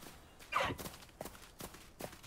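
Horse hooves in a Hogwarts Legacy video game on PS5, a few soft clip-clop steps spaced out over a couple of seconds, faint and close, with no talk over them.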